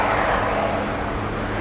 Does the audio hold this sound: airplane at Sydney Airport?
yes